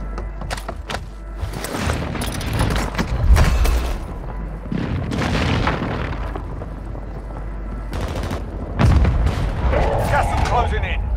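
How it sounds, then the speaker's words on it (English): A precision airstrike in the Warzone Mobile shooter lands as a series of heavy, booming explosions with rumbling tails, spaced a few seconds apart and loud, mixed with scattered gunfire and game sounds. "Enemy precision airstrike."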